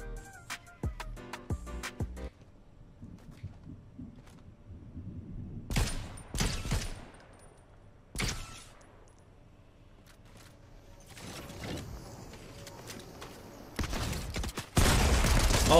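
Gunshots in Fortnite: a rapid burst of sharp shots at the start, then scattered heavy cracks and crashes among quieter mechanical game sounds, growing louder toward the end.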